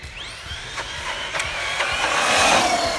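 A brushless 1/10-scale 4WD off-road RC truggy drives at speed, its electric motor giving a high rising whine with pitch sweeps as it accelerates and passes, moderately loud outdoors with steady background noise.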